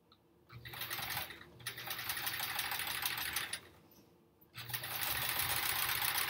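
Sewing machine stitching strips for a string-pieced quilt block in bursts: a rapid mechanical whir that runs, pauses, runs long, stops again and restarts, close and fairly loud.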